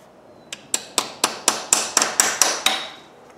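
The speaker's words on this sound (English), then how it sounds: "Again with our little chisel." A small chisel struck repeatedly with a hammer to free parts from an LT230 transfer box, about ten loud, bright metallic blows in a steady, quickening rhythm, close up with no talking.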